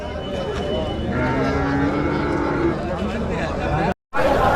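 Holstein-Friesian dairy cows and calves moo in a drawn-out low call amid farmyard noise, while someone talks over the scene.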